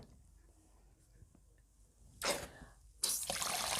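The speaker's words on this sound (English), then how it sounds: "this will be your spray watering can" Water sprayed from a spray bottle onto wool during felting, heard as two short, sharp hissing bursts after a quiet stretch, the second burst louder and longer.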